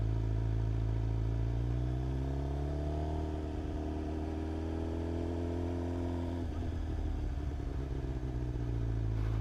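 A 2025 Suzuki GSX-R 750 motorcycle crawling through slow-speed maneuvers, its engine droning steadily up close with a rising pitch into a gear change and then settling lower again as it shifts back down.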